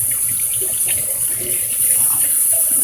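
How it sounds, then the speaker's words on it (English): A cup being rinsed under a running kitchen tap, with a steady stream of water splashing into the sink throughout and no talking. "let me rinse this cup out."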